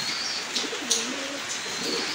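Pigeons in a loft give low, soft coos that rise and fall over a steady background hiss, with a few faint chirps; close and moderately quiet, no talking.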